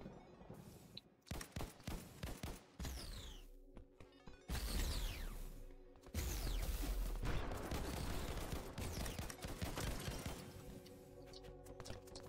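Rapid gunfire and explosions fill a deathmatch in the browser shooter game ev.io, with dense bursts of shots and blasts that sound moderately loud and continue with little pause.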